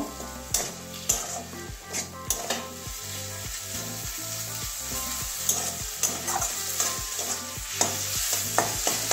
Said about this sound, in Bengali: খুব বেশিও ভাজবো না, খুব বেশি ভাজলে পনিরটা আবার শক্ত হয়ে যাবে।